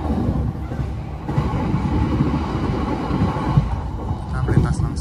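KA Banyubiru business class passenger train running at speed, a steady low rumble and rattle of the carriage throughout, heard from inside with a few faint knocks.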